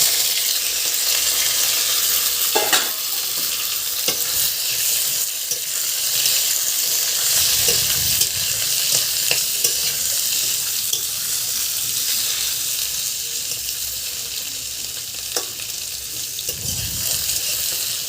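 Taro and potato pieces fry in oil with cumin seeds, giving a loud steady sizzle throughout, broken by occasional scrapes and low knocks as the spoon stirs the pan.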